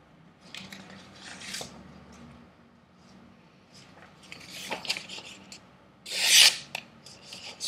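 A kitchen knife is slowly sharpened, giving soft, intermittent scraping strokes at close range, fairly quiet, with one louder rasping stroke near the end.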